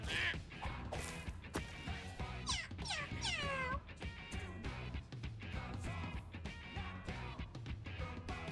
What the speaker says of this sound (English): Cat fight?